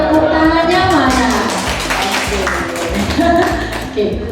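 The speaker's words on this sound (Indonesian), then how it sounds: "Tepuk tangannya mana?" A group claps along at a teacher mentoring session for Guru Penggerak candidates at an Indonesian senior high school, with sharp, steady claps mixed with voices and music throughout.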